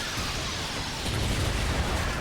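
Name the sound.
Whale air support 120mm cannon explosions in Earth Defense Force 4.1 video game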